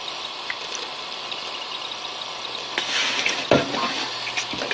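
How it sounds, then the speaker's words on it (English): Antifreeze poured into a container holding oil, giving a steady liquid trickle and splash that swells briefly near the end, close and fairly quiet with no talk. "Let me pour this into there."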